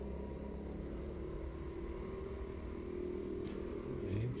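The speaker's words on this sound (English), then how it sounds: "we're accelerating down the straight" Race car on a circuit during a 2022 endurance heat, engine droning steadily and loudly as it accelerates down the straight, a continuous close, muffled roar with slight rise toward the end.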